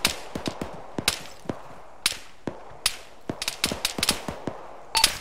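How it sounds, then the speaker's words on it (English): Sharp gunshots crack in irregular bursts during a team skirmish, some single reports and some quick doubles, near and loud against a quiet background. "White is taking effective fire, fairly well pinned down in the middle"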